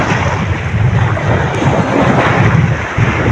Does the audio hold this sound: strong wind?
yes